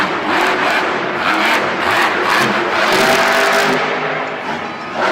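A monster truck engine roars and revs continuously during a Monster Jam show in Pittsburgh as it slams onto cars, loud and close, with crowd noise mixed in.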